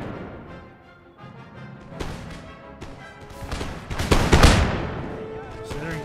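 Cannon and musket volleys from an Empire: Total War battle against Prussian grenadiers and militia, repeated booms and crackling fire building to a heavy, loud burst near the end over music, with some speech.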